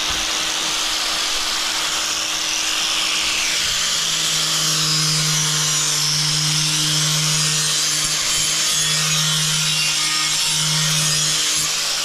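A polishing pad buffs a sharp edge on a bathroom floor, giving a steady, close abrasive rubbing hiss that runs unbroken throughout, with a low machine hum underneath.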